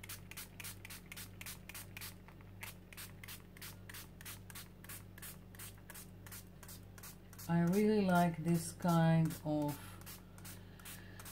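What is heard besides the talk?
spray paint can spraying paper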